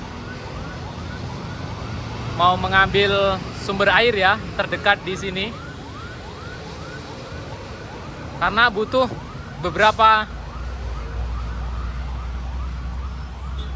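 A fire engine siren wails, rising and falling steadily in the background, fairly distant, under ongoing street noise and talking voices, at a building fire in Padang, West Sumatra.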